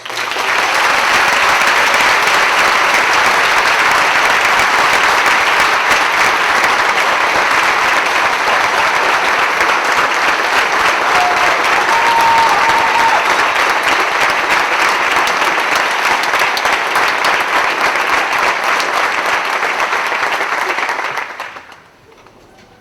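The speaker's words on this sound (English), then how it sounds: "all the staff and students that performed tonight need a great round of applause" An audience at an evening school performance event gives a long, loud, sustained round of applause to staff and student performers, steady throughout before fading out at the very end.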